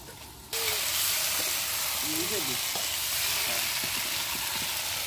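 Vegetables and fish fry in hot oil in a village kitchen as they are stirred, giving a loud, steady sizzle and hiss close by, with faint scraping and voices in the background.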